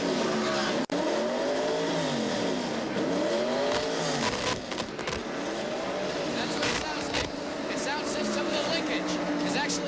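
A race car engine at the 1986 Budweiser at The Glen being revved with fuel fed in to check its sticking carburetor jets, loud repeated rising and falling revs, with commentary voices talking over it.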